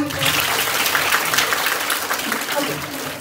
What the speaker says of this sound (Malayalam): ഇവര് 3 പേർക്ക് നല്ലൊരു ക്ലാപ്പ് കൊടുത്തേ